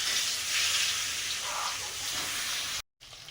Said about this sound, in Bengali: কই মাছ ভাজছি, কই মাছের ঝোল হবে